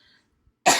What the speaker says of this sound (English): I don't know where these coughs are coming from.